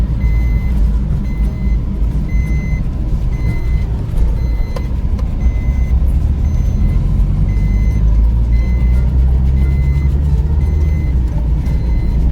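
Auto rickshaw passing along a road, a loud steady engine drone and road rumble with faint repeating high beeps throughout.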